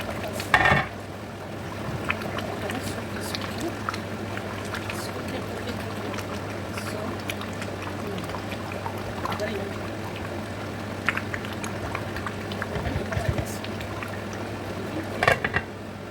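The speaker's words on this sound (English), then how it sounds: "As you can see, our soup is cooking very well, guys." Groundnut soup simmers in a pot, a continuous low bubbling and gentle roil heard nearby, with occasional clinks of a utensil against the pot and faint talking in the background.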